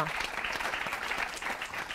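A studio audience on a Catalan spelling quiz show applauds a contestant: steady, dense clapping from many hands, fairly faint and continuous for the whole stretch.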